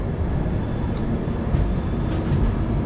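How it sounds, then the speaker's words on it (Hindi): The Sachkhand Express stands at a station in India, its steady low rumble and hiss of rail noise filling the air with a few faint clicks, close and continuous. "वो खड़ी है सचखंड एक्सप्रेस।"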